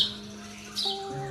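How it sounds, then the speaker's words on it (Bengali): Several short sparrow chirps and tweets, fairly faint, with a steady tonal background hum underneath. "আর এখানে প্রচুর পাখির ডাক শোনা যাচ্ছে"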